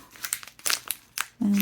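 Plastic wrapping crinkles in a hand while a soy candle making kit is unboxed, giving short irregular rustling bursts that end in a brief sharper crackle, close and moderately loud.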